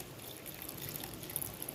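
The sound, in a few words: pouring water into the dish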